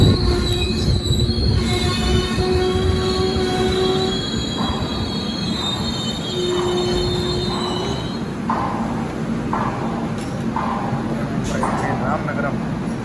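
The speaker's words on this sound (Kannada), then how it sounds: "ರಾಮನಗರ ಈಗ ನಮ್ಮ ಟ್ರೈನ್ ಎಂಟ್ರ್ ಆಗೈತ್ರಿ ರಾಮನಗರಕ್ಕೆ." The Gol Gumbaz Express runs on rails near Ramanagara, its wheels squealing in long, shrill, wavering tones over a constant heavy rumble and intermittent clacks, loud and close throughout.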